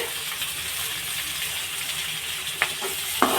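Two large onions with fennel seeds and salt frying in a pan for a vegetable dish, a constant loud sizzle broken by a couple of sharp spatula taps near the end.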